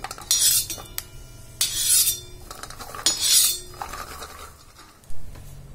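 Roasted peanuts scooped from a hot pan while making Kolhapuri green chilli thecha, with metal spoon scrapes and clinks against the pan in three or four distinct bursts, close and fairly loud, no talking.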